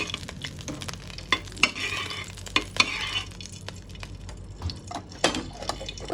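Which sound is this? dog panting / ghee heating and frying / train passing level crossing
ghee heating and frying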